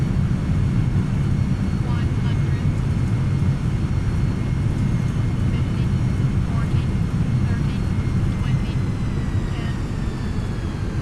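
An MD-11 cargo jet in a flight simulator rolls out after landing with thrust reversers deployed, a loud continuous low roar and rumble of engines and wind throughout, with a faint voice over it.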